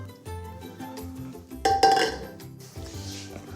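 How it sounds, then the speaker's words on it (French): A utensil clinks and scrapes against a bowl while whipped egg whites are folded into pear frangipane batter, with light, irregular taps and one brighter clatter close by. "maintenant, on va incorporer la première partie des blancs"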